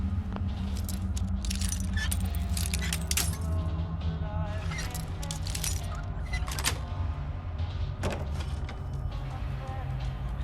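Keys jangle as they are picked up in the video game Fallout: London, a brief metallic rattle over steady in-game background noise with a voice talking.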